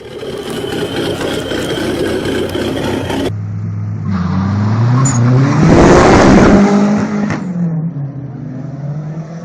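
A 2003 Dodge Neon SRT-4 engine revving, rising to a loud, strained peak with falling and climbing pitch sweeps, then easing back toward a steady idle; no voices.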